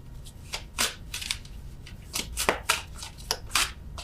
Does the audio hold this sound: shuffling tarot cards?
yes